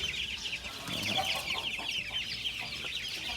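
Chickens clucking steadily on a farm, a dense chorus of birds with frequent overlapping clucks at moderate distance, no voices.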